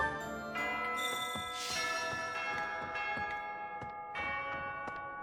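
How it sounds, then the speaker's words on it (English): Bell tones ring out in Fire Emblem Three Houses, a steady run of bright, sustained strikes with long ringing overtones, repeated at a moderate pace and fairly loud, with no talking. "And that's the theme for the bell."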